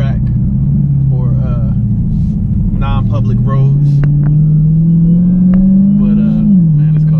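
A Dodge Hellcat's engine drones steadily with a loud low rumble, its pitch climbing gradually as the car accelerates hard, while someone talks over it throughout.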